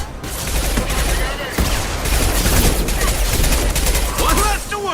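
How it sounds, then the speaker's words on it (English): Repeated high-impact weapon fire from the video game Mass Effect 2, a dense, loud barrage of shots and booming blasts continuing throughout, with game sound effects layered over it. "Firing a high-impact shot."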